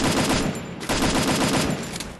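Dense rapid gunfire from a Free Fire battle royale match, sustained bursts of shots crackling loudly and continuously with a brief gap in the middle, no voices.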